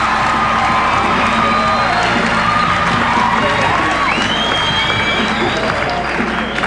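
A bodybuilding contest crowd at the 1986 Olympia cheers and applauds Bev Francis's pose, producing a loud, continuous roar of clapping, whoops and shouts that stays steady throughout.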